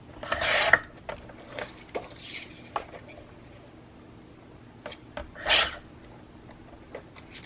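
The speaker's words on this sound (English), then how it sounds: "I'm using 80 pound white cardstock. And we're going to cut these tabs off." Scissors snip tabs off sheets of 80-pound white cardstock, a few brief, crisp cutting and rustling sounds spaced apart over quiet background, close up.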